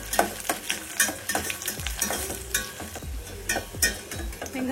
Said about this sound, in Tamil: கடுகு வெடிச்சோன்னே கொஞ்சமா வெங்காயம் ஆட் பண்ணிக்கோங்க ஒரு மிளகாய் வத்தல்